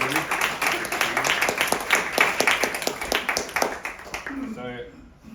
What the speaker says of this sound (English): Can you get another round of applause for that?